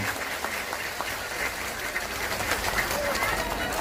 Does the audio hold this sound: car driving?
no